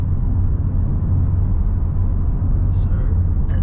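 Interior road noise from a Kia Sportage LX 2.0 diesel AWD on a test drive, a steady low engine and tire rumble at constant volume, with a faint brief click near the end.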